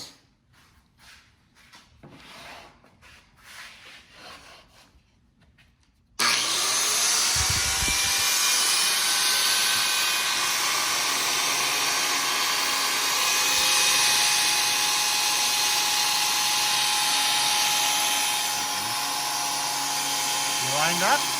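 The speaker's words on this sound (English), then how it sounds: "biscuit joiner." A biscuit joiner cuts slots in mahogany desk parts in a workshop, a loud steady whine running unbroken for about fifteen seconds after a quieter stretch of handling noises and low talk.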